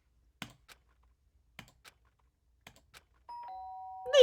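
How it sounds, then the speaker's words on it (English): Doorbell from the video game Danganronpa gives a clear two-tone ding near the end, after a few soft, scattered keyboard-like clicks in near silence. "The sharp sound of the doorbell pierced my sleepy haze"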